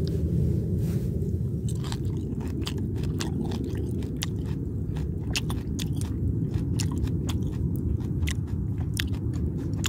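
Three-year aged kimchi is bitten and chewed close up beside a campfire, wet crunching bites and squishy mastication repeating in an irregular rhythm over a steady low crackle, with no talk.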